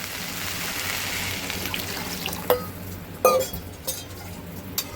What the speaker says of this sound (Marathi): आता मी ह्यात पाणी घालते.